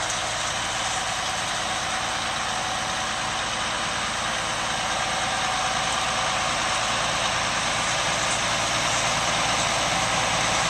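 A New Holland NH2375 four-wheel-drive tractor with a Cummins M11 375-horsepower diesel runs steadily at a farm equipment auction, a loud, constant low rumble with no voices.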